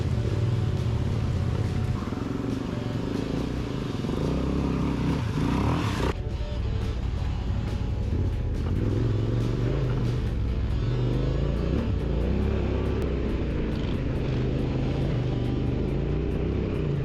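Adventure motorcycle riding on a morning road, a steady engine rumble heard from on board with a sharp change around the middle as the ride continues, wind noise throughout, no talking.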